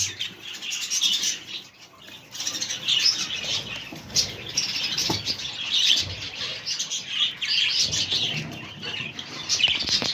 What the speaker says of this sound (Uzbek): Mana yana bitta qushimiz bor mana